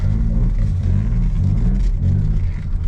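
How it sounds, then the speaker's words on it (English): A Suzuki Cappuccino accelerating, its small engine droning steadily with a low throaty rumble heard from inside the cabin, loud and continuous. "First time accelerating in the CAPP."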